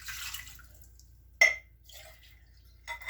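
Water swished around inside a container while mixing bitters: short sloshing bursts separated by near silence, one sharper splash in the middle and another swirl at the end, close and fairly quiet.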